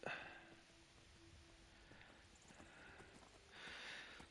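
Steady hoof clip-clops from a horse at an easy walking pace in the video game Skyrim, fairly faint, over a quiet ambient background with a soft synthetic tone.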